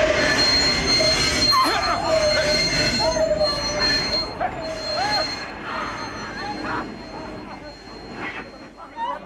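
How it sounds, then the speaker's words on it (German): A train squealing to a halt after the emergency brake is pulled, a loud, sustained high metallic wheel screech that wavers in pitch over rumbling carriage noise and faint babble, fading toward the end. "ziehen Sie die Notbremse"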